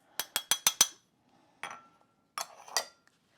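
Homemade preserves mixed with cardamom and a pinch of salt in a bowl for a rugelach filling: five quick, sharp spoon clinks against the bowl, then a pause and a few more scattered taps, close and otherwise quiet.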